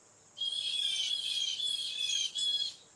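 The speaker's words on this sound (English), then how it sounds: "Sounds like there's some birds arguing with each other." Several birds near a forest squawk loudly and harshly in a long, continuous burst, with a brief dip before the shrill calls resume.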